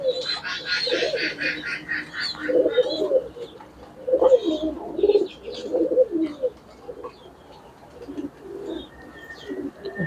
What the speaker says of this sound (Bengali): এই হচ্ছে কবুতরের পাকগুলো মোটামুটি সুন্দরী